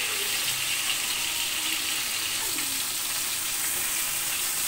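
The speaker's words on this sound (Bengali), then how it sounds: "মাছটা ভাজা কমপ্লিট হয়ে গেছে" Fish frying in hot oil in a pan, a steady close hissing sizzle that stays even and continuous throughout, with no talk over it.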